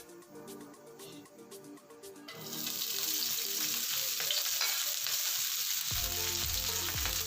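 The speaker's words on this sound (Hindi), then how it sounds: "इसमें फ्राई कर लेते हैं हम अपनी सब्ज़ी" Vegetables fry in two spoons of oil, a bright dense sizzle that swells in after a quieter stretch of soft kitchen clatter, then carries on loudly with a low rhythmic rattle near the end.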